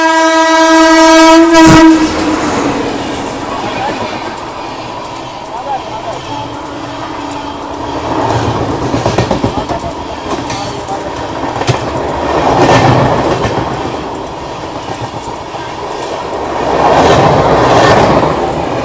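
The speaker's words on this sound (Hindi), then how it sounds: "वंदे भारत से अच्छी स्पीड में ये ओवरटेक करके जा रही है।" Amrit Bharat Express train overtaking another train, a loud horn blast near the start, then a rumbling passage with rhythmic clickety-clack that swells and fades, with a voice talking over it.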